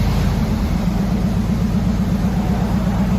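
A 1994 Chevy Silverado 1500 with a 5.7L V8 and Borla Pro XS dual exhaust rumbles loudly and steadily at close range, a deep pulsing exhaust note holding even throughout.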